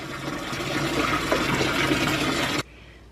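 Tap water gushes steadily into a sink being filled to bathe a muddy dog, loud and close, then cuts off abruptly near the end, leaving quiet room tone.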